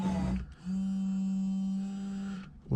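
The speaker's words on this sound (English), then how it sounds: "Front wipers, fast, slow, intermittent," A Ford Escort Cosworth's windscreen wiper motor runs with a steady mechanical hum and whine, then briefly changes speed. The wipers stop and start again, with a clunk at each end of the run.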